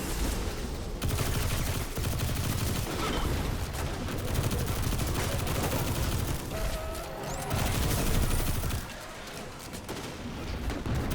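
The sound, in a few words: gunfire in the video game Destiny 2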